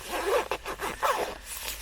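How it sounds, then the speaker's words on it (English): A heated vest is zipped up close by, two quick zip pulls in a row followed by a brief rustle of fabric. "I just zip it up."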